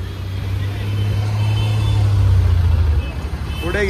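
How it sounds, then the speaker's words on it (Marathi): A tempo van's engine rumbles steadily nearby as it moves slowly backward, with a low, continuous drone and background voices. "हे मागे येते गाडी आहे."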